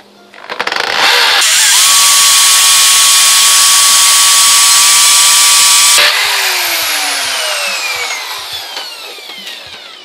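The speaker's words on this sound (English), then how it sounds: "So I'll drill a hole that's too short on purpose." A power drill bores a hole into a house's brick wall while a cat enclosure is being fixed in place, its loud, steady, high whine running for about five seconds before it winds down and fades.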